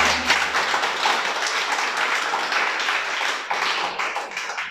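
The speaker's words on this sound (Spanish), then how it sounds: "Un aplauso al Creador, pues." A church congregation breaks into applause, a burst of many hands clapping at once that holds steady for several seconds before thinning slightly toward the end.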